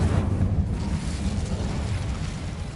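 An Incendio fire spell cast in a magic school video game: a loud, rumbling burst of flame that roars and sustains with a crackling, whooshing texture, close and full.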